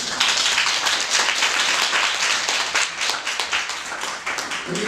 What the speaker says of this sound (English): One more clap for my man Stan